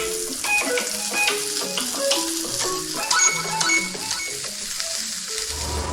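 A thick slice of pancetta sizzles in a frying pan over lowered heat, giving a continuous crackling hiss with small pops under soft background music.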